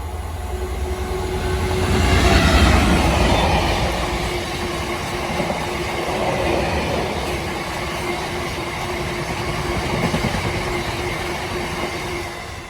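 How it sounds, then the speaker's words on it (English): A freight train passes through the station at Pangbourne, its loud rumble of wagons and wheels rising and falling in waves with a rhythmic clatter and faint squeal. "Passing through now is some freight."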